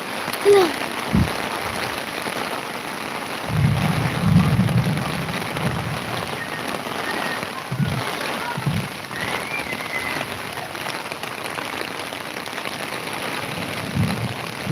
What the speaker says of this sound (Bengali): ভালো ভালো বৃষ্টি হচ্ছে